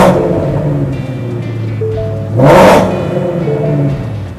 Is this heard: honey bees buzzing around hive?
no